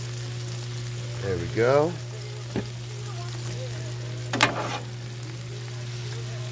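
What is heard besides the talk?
Brussels sprouts frying in oil and bacon grease on a Blackstone griddle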